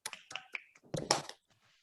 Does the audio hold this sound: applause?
yes